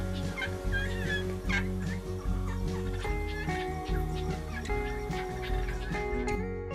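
Wild turkeys gobble repeatedly on Poverty Canyon Range, several loud rattling calls rising over a dense, steady backdrop of other fowl and birds clucking and calling throughout.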